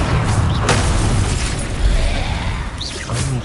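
Bombarda spell explosions in the video game Hogwarts Legacy, loud booming bursts and crashing impacts packed closely together, with a sharp blast near the start and another near the end.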